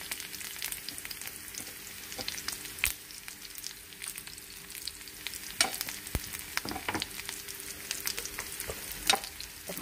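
Garlic sizzling and browning in a hot pan, a steady crackling fry with occasional louder pops and stirring scrapes, close and continuous with no voices.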